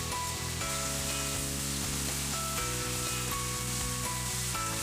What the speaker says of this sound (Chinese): 再下菠菜翻炒